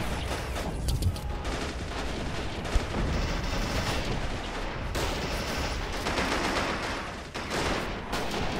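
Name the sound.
machine gun fire in a WWII video game battle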